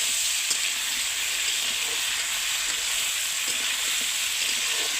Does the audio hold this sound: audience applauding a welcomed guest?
no